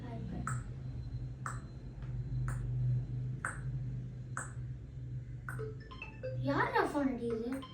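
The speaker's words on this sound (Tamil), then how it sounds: "யாரா ஃபோன் அடிக்குது?" A phone rings with short, bright tones repeating roughly once a second against a low background hum, with a busier burst of sound near the end.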